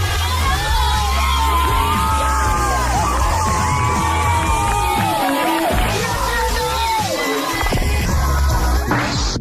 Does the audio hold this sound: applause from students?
yes